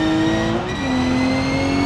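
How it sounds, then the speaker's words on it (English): A race car engine roars under heavy throttle through a corner, a loud, steady high-pitched drone that dips briefly and then climbs again, close and with no voices. "as I got really heavy on the throttle in the corner."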